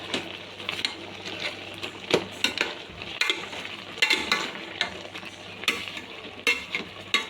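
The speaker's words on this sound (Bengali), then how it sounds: "দিচ্ছি কালো জিরে শুকনো লঙ্কা তেজপাতা" Nigella seeds, dried chilli and bay leaf hit hot oil and sizzle loudly up close, with bursts of crackle and the scrape of stirring repeating unevenly, and no one speaking.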